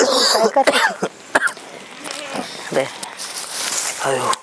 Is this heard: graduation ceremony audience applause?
no